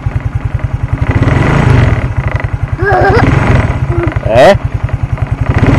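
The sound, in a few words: 1992 Suzuki motorcycle engine revving after cold start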